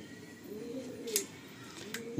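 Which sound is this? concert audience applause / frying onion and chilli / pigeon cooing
pigeon cooing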